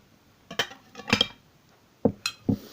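Food being stirred in a dish, a cluster of clinking, scraping utensil-against-dish taps, a short pause, then a few more knocks, close and fairly quiet.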